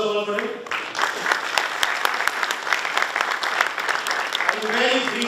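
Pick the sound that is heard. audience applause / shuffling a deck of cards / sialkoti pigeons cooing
audience applause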